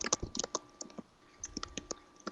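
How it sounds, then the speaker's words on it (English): Computer keyboard typing picked up on a podcast microphone, a quick, uneven patter of light clicks and keystrokes at moderate distance, with no speech. "Is anybody typing? like typing something?"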